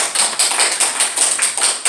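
A church congregation applauds at a service honouring a pastor, dense steady clapping from many hands throughout, loud and close.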